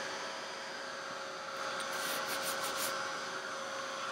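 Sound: heat gun drying spray ink

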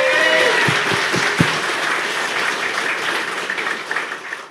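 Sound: applause

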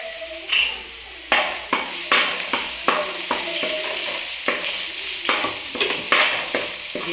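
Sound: garlic, ginger and green chillies frying in hot oil

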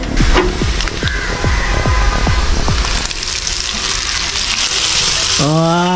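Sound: mustard seeds frying for tempering

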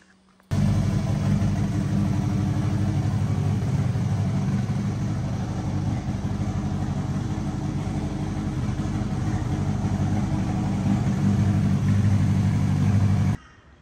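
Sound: Honda K-series billet block engine idling

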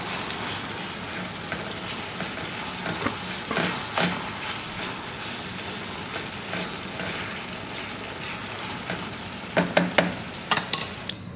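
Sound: stirring and frying sloppy joe meat in a pan

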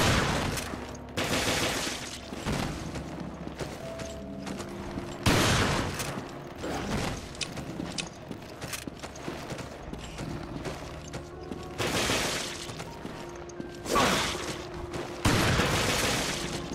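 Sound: gunfire in the video game Resident Evil: Revelations

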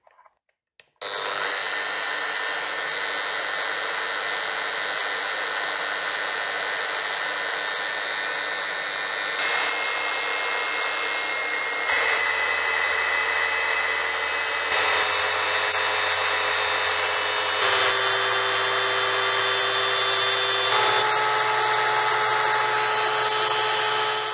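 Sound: Bosch GET 75-150 eccentric sander running idle, first speed

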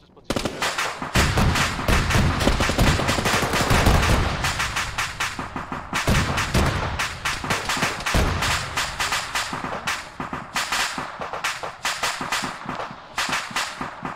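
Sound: grenade explosion and gunfire in video game Arma

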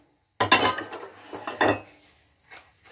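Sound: plate and dishes clinking

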